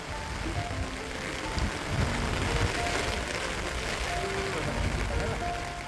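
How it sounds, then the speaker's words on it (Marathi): Heavy monsoon rain falls steadily outdoors on a walk toward a waterfall, a dense, even wash of noise that holds without a break. "अशा प्रकारे जोराचा पाऊस आलेला आहे"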